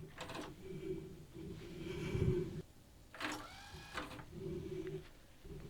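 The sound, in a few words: TEAC V-900X cassette deck running auto calibration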